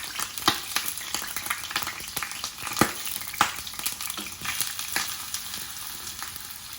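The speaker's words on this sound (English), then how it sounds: "I am going to put in the red onion that was chopped and the cloves of garlic, and just start to saute them" Chopped red onion and garlic sauté in a pan, a close, steady sizzle broken by sharp spatula clicks and scrapes as they are stirred.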